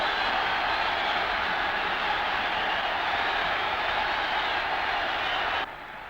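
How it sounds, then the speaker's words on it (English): A football crowd roars loudly and continuously after a Kilmarnock goal headed in by the left back, a sustained dense wall of cheering that drops off abruptly near the end. "And listen to the crowd roar."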